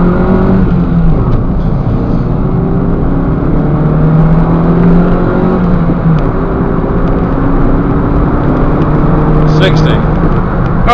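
Engine of a 2005 Nissan Micra 1.2 pulling hard from a standstill toward 60, a steady loud drone with rising harmonic sweeps as it revs through the gears, with voices talking over it.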